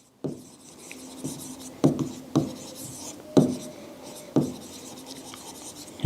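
Marker or chalk strokes on a board during an accounts lesson, a series of close scratchy writing sounds with several sharp taps, with faint background hum.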